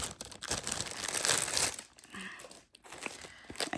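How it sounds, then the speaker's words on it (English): Plastic wrapping being pulled off a Hobonichi journal with a collaboration cover, close crinkling and rustling in bursts with a brief pause midway. "I'll take the plastic off and take a look at it"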